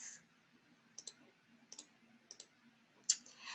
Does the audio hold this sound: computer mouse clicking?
yes